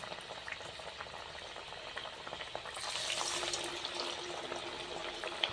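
Cowpea vadas deep-fry in hot oil over a low flame with a quiet, continuous bubbling hiss. The frying grows a bit fuller and louder partway through, with light crackles throughout.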